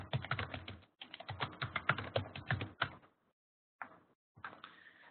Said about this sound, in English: I'm going to type my email address on chat.